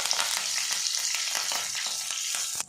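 Chopped curry leaves with mustard and cumin seeds sizzling in hot oil, a loud steady hiss close by with faint stirring scrapes, ending in a sharp clatter.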